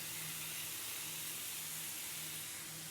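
Chicken sizzling on a lightly oiled grill, a steady close hiss that stays even and unbroken throughout.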